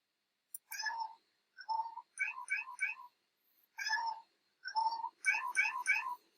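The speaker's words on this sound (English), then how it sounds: "meow, meow, meow. Meow, meow, meow, meow, meow." Cat meows, a quick series of short, bright mewing calls in irregular groups, each burst a few quick meows, loud and close with silent gaps between them.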